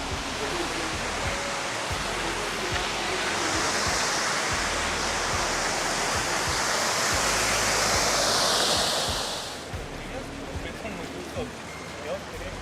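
Water of the Peterhof fountains and Big Cascade, a dense, continuous roar of falling and splashing water that stays loud and steady, then drops somewhat near the end, with people talking beneath it.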